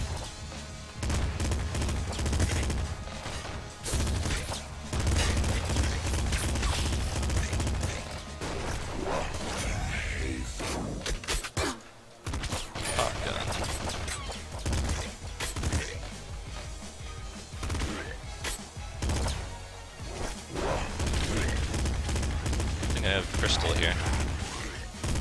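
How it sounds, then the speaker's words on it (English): Dense, continuous gunfire from a pop rifle and an assault rifle in the video game Nuclear Throne, a loud crackling barrage with brief pauses, mixed with a person talking throughout. "We have the pop rifle and the assault rifle"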